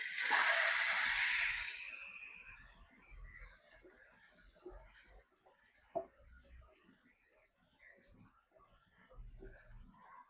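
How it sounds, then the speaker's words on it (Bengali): Spiced goat meat dropped into hot oil for a bhuna, giving a loud burst of hissing sizzle at the start that quickly fades to a low, quiet crackle with a few faint pops. "তেল গরম হয়েছে মাংস মশলা মাখা মাংস দিয়ে দিলাম"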